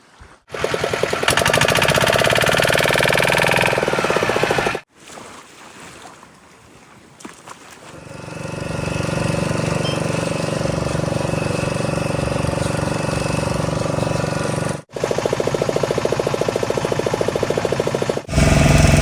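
A motor boat engine drones loudly and steadily on a mangrove river. It cuts out briefly, drops to a quieter running stretch, then returns at full strength.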